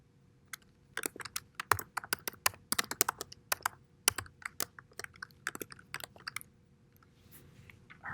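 Someone types a simple hello world program on a computer keyboard, irregular close keystrokes clattering in quick bursts with short pauses over a quiet room.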